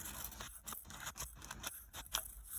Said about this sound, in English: I'm gonna take my scissors again